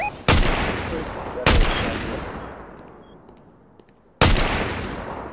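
Three loud, sharp gunshots in Fortnite, widely spaced, each followed by a long fading echo that decays into quiet before the next shot.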